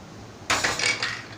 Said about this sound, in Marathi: आता मी गॅसवर कुकर ठेवत आहे